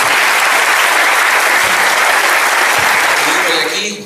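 An audience at a talk breaks into loud, dense applause that holds steady for several seconds before tapering off as a voice begins to speak.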